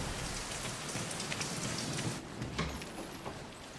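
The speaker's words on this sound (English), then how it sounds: "So whenever it starts raining like this, I just have to run outside" Steady rain pours down outdoors, a dense even hiss of drops striking surfaces that stays fairly loud and unbroken throughout, with no voices.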